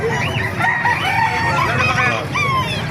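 A noisy crowd of chickens and roosters at a poultry market in Calumpit, Bulacan, several birds crowing and clucking over one another in a busy, close, continuous chorus.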